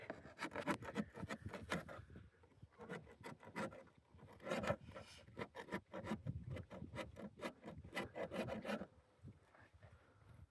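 Close, quiet rasping of sandpaper on wood, worked in irregular bursts of short back-and-forth strokes with brief pauses between them.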